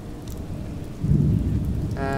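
Rain beginning to fall in the video game Oxenfree, a low rumbling downpour that swells louder partway through, followed by a sustained tonal note entering at the end.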